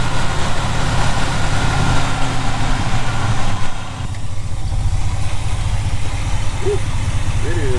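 A Ford F350 truck, left unfinished for 20 years, runs with a blown exhaust, giving a loud, rough, low engine rumble that dips briefly midway.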